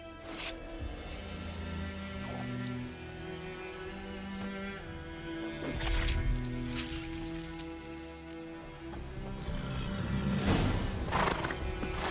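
A horse in the video game The Witcher 3: Wild Hunt whinnies and clops its hooves amid a patter of rain, beneath a sustained layer of game music that swells toward the end.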